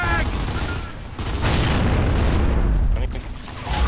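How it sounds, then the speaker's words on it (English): A frag grenade blast and bursts of gunfire from Gears of War 3 ranked online play boom loudly and densely for a few seconds, with players' voices mixed into the chaotic game audio. "Throwing frag!"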